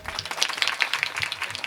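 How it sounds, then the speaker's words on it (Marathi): A crowd at a devotional kirtan gathering claps briefly for Vaibhav Maharaj, a short, fairly faint burst of scattered applause. "वैभव महाराजांसाठी जोरात टाळ्या वाजवा"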